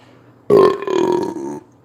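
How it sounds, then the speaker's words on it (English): A single long, loud, close burp from a man during a live stream, lasting about a second with a rough, voiced drone. "Sorry, I'm just burping, but I was reading."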